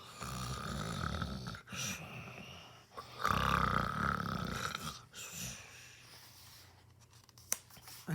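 A voice imitating sleeping dinosaurs snoring, T-Rex and friends, with slow rasping snore breaths rising and falling, moderately quiet and close, with no talk over it.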